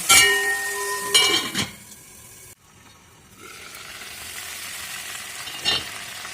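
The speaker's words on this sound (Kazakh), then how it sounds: "Етіміз қуырылып жатыр." Chicken sizzles in a lidded cauldron amid clinks and stirring scrapes, the frying hiss dropping away briefly before returning at a steady level.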